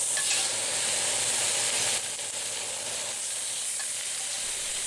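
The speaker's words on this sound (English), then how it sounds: "And here is where the meat hits the pan." Steak searing in a blazing hot Finex cast iron skillet gives a loud, steady close-up sizzle that holds for the whole stretch and eases slightly partway through, with no talking over it.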